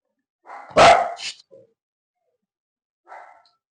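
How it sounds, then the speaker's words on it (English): Household dogs barking close by in a room: a few sharp, loud barks bunched together, a short pause, then one softer bark, with no talking. "Sorry about the dogs, but I don't want to re-record all this."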